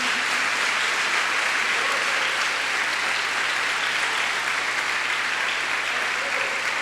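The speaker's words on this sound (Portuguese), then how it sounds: "Você pode aplaudir ao Senhor." A church congregation applauds during a sermon, giving a loud, steady wash of many hands clapping that holds evenly throughout with no pause.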